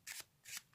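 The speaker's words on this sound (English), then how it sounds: "I will give the cards another shuffle just to be twice as fair" A packet of playing cards being shuffled, two quick crisp riffling bursts close up with no voices.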